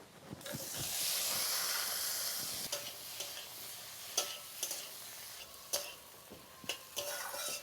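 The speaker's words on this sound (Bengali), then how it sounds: "আলুর সাথে সব মশলা ভালো করে কষিয়ে নিয়ে দিয়ে দিচ্ছি টমেটো কুচি।" Potatoes with turmeric, Kashmiri chilli powder and chopped tomato sizzle in a pan for spiced ghugni. A close, steady frying hiss is broken by repeated stirring scrapes and clicks, with no talking.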